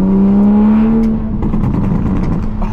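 A car on a test drive after new wheels are fitted pulls away hard, the engine note rising loud and close with a brief whine before settling into a rougher rumble.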